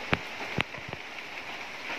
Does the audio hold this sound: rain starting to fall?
yes